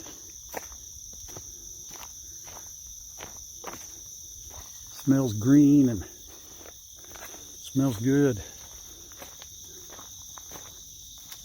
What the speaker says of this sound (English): I think those are crickets that I hear.